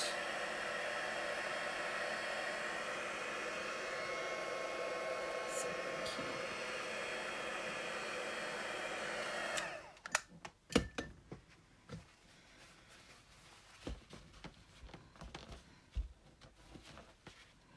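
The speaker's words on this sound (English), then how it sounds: "Now we're just going to heat set it to dry it out a little bit so we can stamp again." A heat tool blows a steady, loud whooshing hiss for about ten seconds while drying stamped pigment ink, then cuts off, leaving quiet handling taps and clicks.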